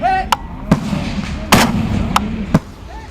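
Gas gun shots fired at steel range targets, five sharp loud reports spaced irregularly about half a second to a second apart, with a low ringing hum between them.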